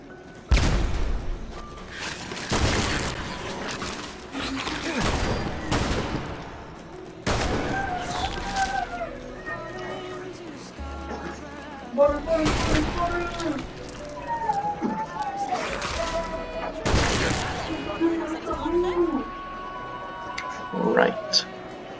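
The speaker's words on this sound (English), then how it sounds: "Machine gun. Turret. Got rid of that." Machine gun turret firing in the Fallout London video game, heard as repeated loud sharp bursts spread through the clip, with someone talking over much of it.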